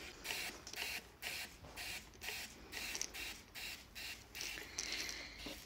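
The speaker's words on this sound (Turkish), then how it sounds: "sukulentlerimin üzerine şöyle sıkaraktan güzelce ilaçlanmalarını sağlıyorum." A hand sprayer mists pesticide onto potted succulents in a run of about nine short, evenly spaced hissing bursts, faint and close, with no talk.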